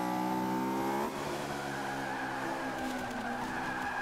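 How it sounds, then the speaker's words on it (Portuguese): A Honda S2000 in Forza Horizon 5 drifts with a sustained tire squeal over a high engine whine that drops sharply partway through, then continues as a rougher skid and engine drone, loud and close. "Agora driftei aqui,"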